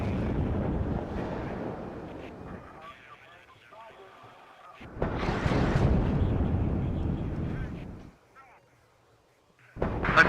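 Artillery guns fire in the WARNO war game, deep booming blasts arriving in a few separated bursts with rumbling tails and quiet gaps between, along with brief radio-style voice chatter.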